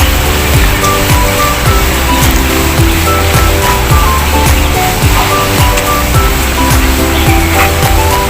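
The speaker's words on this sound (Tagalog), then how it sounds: "Medyo lumakas na po yung ulan." Heavy rain falls in Wan Chai Park, Hong Kong, a dense continuous hiss of downpour, loud and close, with a low rumble of traffic beneath.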